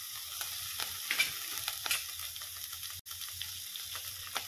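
Tender gram (chickpea) greens tossed into a pan with turmeric, frying with a soft close sizzle and scattered crackles and stirring scrapes.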